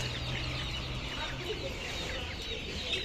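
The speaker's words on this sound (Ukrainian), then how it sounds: "Ось ціплята. Великий вибір цих ціплят." Chicks and chickens clucking and peeping at a poultry market, a steady busy wash of chirps and clucks filling the whole stretch at moderate distance with no talk over it.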